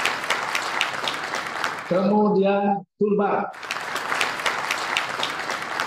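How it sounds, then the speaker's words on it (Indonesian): Audience applause at an executive dialogue event, a dense wash of clapping before and after a brief spoken line that interrupts it. "tepuk tangan lah itu ya"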